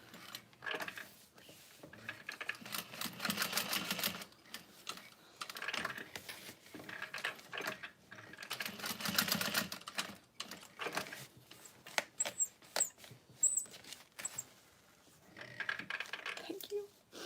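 A sewing machine stitching a vanity bag with its bobbin running low, running in rapid bursts broken by short pauses, with a voice talking intermittently throughout.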